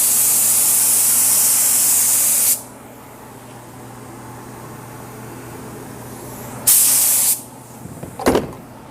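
Activator sprayed onto hydro dipping film: a long, loud, steady spray hiss, then quiet, then a second shorter burst, followed by a couple of faint knocks.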